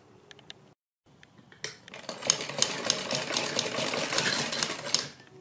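An electric sewing machine runs steadily for several seconds, stitching the lining of a boat-neck suit, with a dense rapid clatter after a few faint clicks and a short pause.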